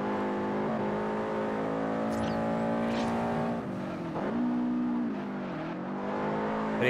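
Lamborghini Diablo in Forza Horizon racing hard, its engine screaming at high revs with rising and falling pitch through shifts and corners, close and constant, with faint tire squeals and no voices.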